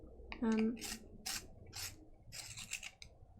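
Short scraping, rasping strokes of a Caran d'Ache Pablo colored pencil being sharpened, several quick bursts close up, with a brief low voiced sound near the start.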